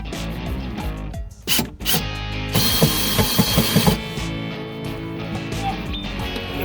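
Ratchet tightening bolts on rock guards fitted to a Dodge Challenger Hellcat, quick bursts of close mechanical clicking with brief pauses between strokes.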